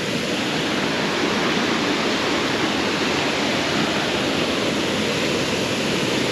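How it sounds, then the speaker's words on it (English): A loud waterfall roars with a constant, dense rushing of water that fills the whole scene without pause. "That waterfall is so loud, you know."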